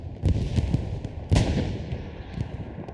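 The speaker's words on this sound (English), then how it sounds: "2 AT guns going down. That's what both those explosions were." In Hell Let Loose, two AT guns are destroyed, heard as two sharp explosions: one early burst and a louder, broader blast near the middle, followed by scattered distant booms of battle.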